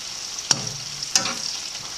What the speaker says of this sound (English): I'm frying on full heat here.